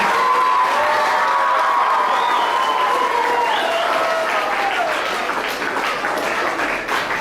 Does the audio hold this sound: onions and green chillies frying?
no